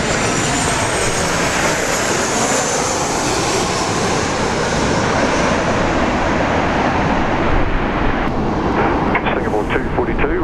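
A jet airliner passes overhead at Sydney International Airport, a loud, steady broadband engine roar filling the whole stretch with a faint rise in whine toward the end; a voice talks over it.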